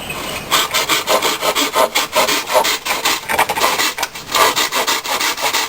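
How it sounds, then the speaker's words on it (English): A saw scrapes back and forth through dry bamboo in quick, steady strokes, giving a bright, raspy, rhythmic rasp close by with no talking. "You can tell just by the sound of this that this bamboo is starting to get dry."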